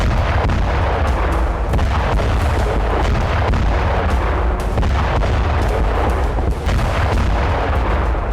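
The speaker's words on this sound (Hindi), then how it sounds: "हाई इंटेंसिटी वाले विस्फोटकों से लैस एफपीवी ड्रोन टारगेट को हिट कर जोरदार धमाका करता है।" An FPV drone armed with high-intensity explosives strikes a target: a dense, continuous roar of heavy blasts and rumbling booms, loud and unbroken, like sustained explosive fire.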